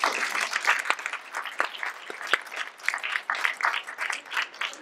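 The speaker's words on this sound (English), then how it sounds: "Let's give her a round of applause for that." Conference audience claps after a speaker's talk on passion, a moderately sized crowd producing uneven, bursty applause with individual sharp claps standing out, fairly close.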